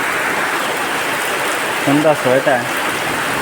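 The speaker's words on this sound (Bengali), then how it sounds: "বৃষ্টি নামলো আকাশে, খুবই আরাম লাগে।" Evening rain after a spell of hot weather falls as a steady hiss, while a person speaks briefly partway through.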